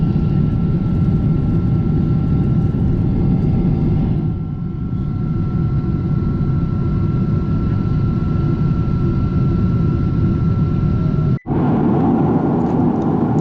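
A British Airways airliner takes off from Gatwick Airport, heard from inside the cabin as a loud, steady engine roar and rushing hum that holds constant throughout, with a brief dip and one sharp click near the end.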